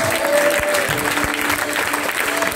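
A worship congregation applauds and acclaims Jesus, with dense, steady clapping from a crowd and voices mixed through it.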